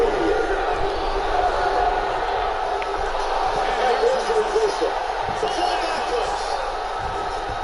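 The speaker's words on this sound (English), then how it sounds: "Crowd chanting for Daniel Cormier here." A video-game arena crowd in UFC 2 chants for Daniel Cormier during a fight night bout, a dense, steady roar of massed voices with rhythmic swells, under a commentator's voice.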